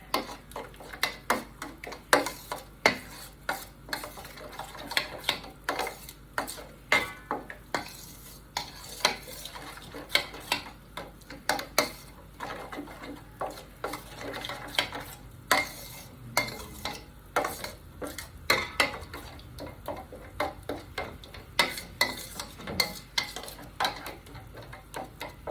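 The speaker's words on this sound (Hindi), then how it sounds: "पहले इसको आप अच्छे से मसालों को मिक्स कर लें दही में।" Spices being stirred into yogurt in a bowl as coating for chicken pakoras, a close, repeated rhythmic scraping and clinking of a spoon against the dish with no talk.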